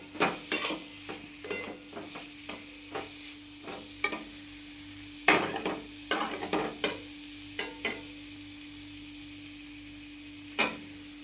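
Potatoes stirred in a frying pan, a spoon scraping and knocking against the metal in irregular bursts over a quiet background, with no talking.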